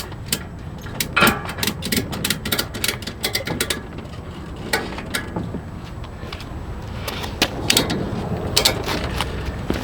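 Hand-tightening a strap on a ramp-and-rack motorcycle carrier mounted on a motorhome, with sharp repeated ratcheting clicks in bursts and short pauses, close up and fairly loud.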